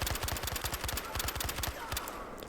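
MG36 machine gun in the Battlefield Hardline shooter game fires a rapid sustained burst of about twenty shots, loud and close, with no talking over it.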